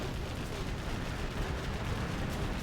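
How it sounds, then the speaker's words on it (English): Artillery fire in a competitive real-time strategy game match, a dense continuous barrage of rumbling blasts and explosions packed tightly together, loud and unbroken throughout. "The artillery just nailed a load of quads"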